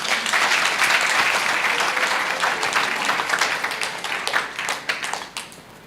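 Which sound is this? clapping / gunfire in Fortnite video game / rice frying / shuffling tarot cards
clapping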